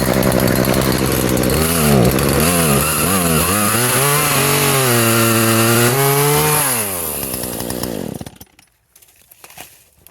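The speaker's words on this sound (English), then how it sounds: "just grab another chainsaw and keep on working" A chainsaw cuts through red oak tree limbs, loud and close, its engine revving up and down in repeated surges while bogging into the wood, then cutting off and falling quiet near the end.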